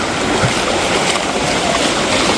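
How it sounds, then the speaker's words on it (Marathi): Sea waves at high tide washing against rocks on the Dapoli coast, a steady, dense broadband roar of surf close by, continuous and unbroken throughout without voices. "भरती एवढी आली आहे की पूर्ण पाण्याच्या लाटा इकडे टच होत आहे दगडांना"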